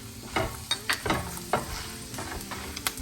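Mustard seeds and urad dal fry in hot oil, crackling and popping in quick irregular bursts over a constant sizzle, heard close up with no talking.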